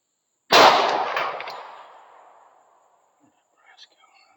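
A single close, loud .45 Auto gunshot from a handload made with H110 powder gives a sharp crack that decays over about two seconds, followed by faint handling sounds.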